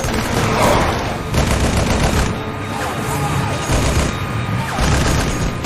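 Dense gunfire from a Halo Wars video game cutscene, sustained bursts of loud rifle and machine-gun fire mixed with booms and battle noise, continuous and close throughout, with shouted voices faintly under the din.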